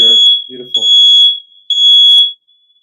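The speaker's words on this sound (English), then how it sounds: "It's like the fire alarm's going off here." A piercing smoke or fire alarm beeps loudly in two long bursts inside an office, with a person's voice briefly heard between the beeps.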